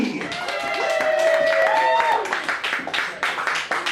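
Audience applause and scattered cheering at a live comedy and music night, a dense steady wash of clapping with voices calling out over it, then thinning into irregular claps toward the end.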